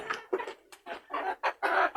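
Several chickens pecking at food cluck in quick, uneven bursts close by, one short call after another with brief pauses between.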